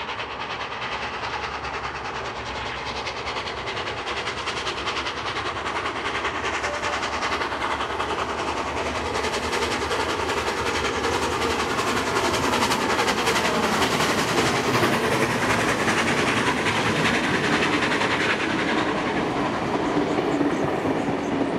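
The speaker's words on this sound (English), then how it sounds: "Here we see the 32 class engine at Engadine." Steam locomotive 3237, a 32 class engine, rolling past at Engadine, New South Wales: a long steady roar with rhythmic clickety-clack of wheels and carriages, loud and close throughout.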